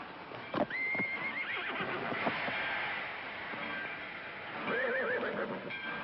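A horse neighs and whinnies in several shrill bursts near a train platform, with hooves clip-clopping in between, fairly close and moderately loud.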